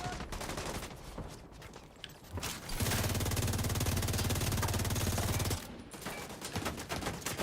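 Sustained automatic gunfire in a PvE shooter game, a dense continuous burst of rapid shots lasting about three seconds, preceded and followed by scattered shots and busy combat noise.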